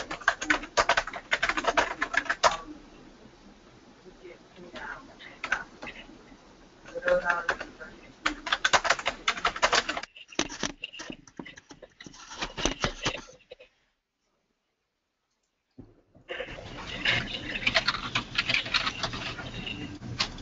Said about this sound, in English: Typing, but no talking